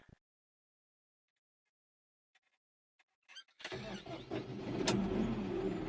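A New Holland T4.75S tractor engine cranks over and catches after near silence, a few faint clicks leading into the start, then settles into a steady, loud, rumbling idle that fills the rest of the clip.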